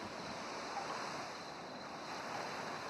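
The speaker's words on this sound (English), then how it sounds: "The rhythmic sounds of the waves echo through the beach, soothing and calming." Ocean waves washing onto a beach at night, a steady soft surf hiss with gentle swells, continuous and even, no voices.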